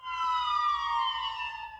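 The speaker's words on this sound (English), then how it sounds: "and then the sirens wailed" A siren wails at a memorial ceremony with a smooth, slowly falling tone, loud and clear, heard alone without any talking.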